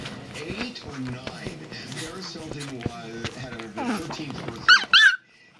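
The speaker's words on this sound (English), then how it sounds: "The two little puppies ganging up on poor Lillie." Maltese puppies growl and yap in a busy play-fight, with scuffling and a couple of sharp high yelps near the end, while a person talks over it.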